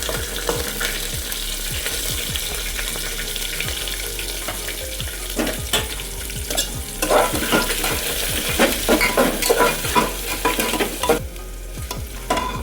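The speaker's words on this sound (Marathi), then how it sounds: "त्यानंतर लगेच कांदा टाका. कांदा फ्राय करून घ्या." Onions fry in a pan for a masala chicken biryani, a continuous close sizzle with frequent rhythmic scraping strokes of a spoon stirring throughout.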